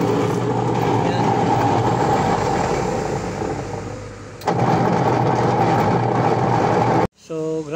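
A faulty washing machine with a broken wash motor runs loudly, a steady heavy mechanical drone with a rough, grinding texture that dips briefly midway and stops abruptly near the end, where a person begins speaking.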